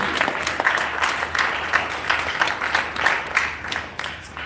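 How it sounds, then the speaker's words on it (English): A town hall audience claps together in a sustained round of applause, with rhythmic clapping bursts that stay fairly steady throughout. "Give yourselves a huge round of applause."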